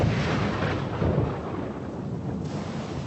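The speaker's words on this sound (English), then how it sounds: "It was a night attack in a thunderstorm." A deep rolling rumble of thunder swells and fades across a stormy background, heavy and sustained, with no voices.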